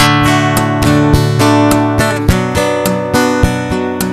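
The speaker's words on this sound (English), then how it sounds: "you still have to mute the strings. Otherwise, they'll sound like this." Guitar strings left ringing unmuted between percussive kick-drum thumps on the body, a loud, busy strummed pattern with sharp regular hits over sustained chord tones, with no talking.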